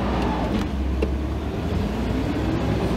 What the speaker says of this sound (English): we are going to take a drive in the 56 Cadillac Eldorado